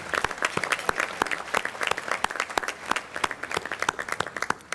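Audience at the 2017 NOMA Conference Gala in Houston breaks into sustained applause, dense overlapping hand claps filling the room with sharp individual claps popping out, fairly close and loud throughout.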